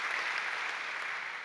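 A church congregation claps for God during a sermon, a soft, even wash of many hands applauding, faint and distant-sounding throughout.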